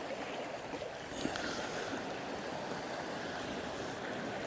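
Sea swell and waves washing at a shoreline in darkness during saltwater bass fly fishing, a steady broadband surge with no voices, rolling on continuously throughout.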